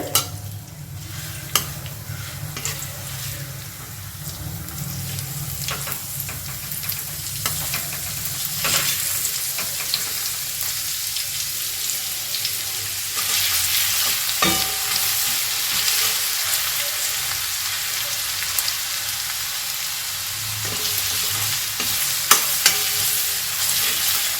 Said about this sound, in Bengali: এই গ্রেট করা রসুনটা আর লঙ্কাটা কিন্তু আমাদের তেলেতে সুন্দর করে ভেজে নিতে হবে।